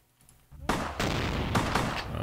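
A gun firing in Vampire the Masquerade Bloodlines: near silence, then a sudden loud blast followed by a sustained burst of rapid, overlapping shots with sharp cracks recurring until the end.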